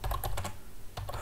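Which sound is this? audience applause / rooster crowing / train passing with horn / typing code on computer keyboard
typing code on computer keyboard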